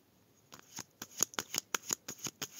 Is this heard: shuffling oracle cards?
yes